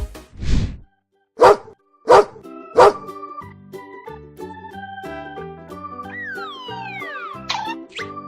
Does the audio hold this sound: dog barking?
yes